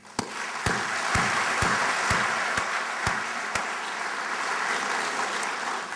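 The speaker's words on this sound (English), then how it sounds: "And for that, I give you a great round of applause." A large convocation audience at Lamar University breaks into a broad, steady round of applause, preceded by a few sharp isolated claps that ring out evenly at the start.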